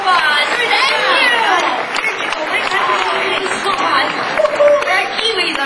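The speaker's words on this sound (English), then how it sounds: "Let's give Connor a big round of applause." An audience at a live bird show in a theme park applauds and chatters for several seconds, a dense steady wash of clapping mixed with crowd voices.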